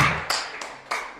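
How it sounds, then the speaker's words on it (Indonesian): Students in an Indonesian classroom clap their hands on cue, a few sharp claps spaced about a third of a second apart, moderately close with no talking over them. "Tepuk tangan dulu untuk kita"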